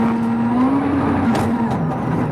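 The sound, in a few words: rally car at 2002 WRC Swedish Rally, Richard Burns driving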